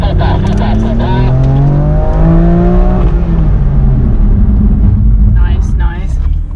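A BMW M car, M2, M3, M4 or M5, pulls hard at full power around the Bedford Autodrome track, its engine note rising loudly and steadily from inside the cabin while a voice talks over it.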